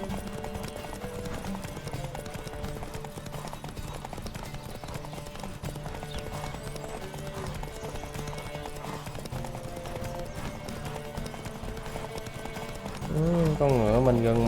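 Galloping horse hooves in The Witcher 3: Wild Hunt drum steadily over background music, and near the end a voice speaks over the hoofbeats.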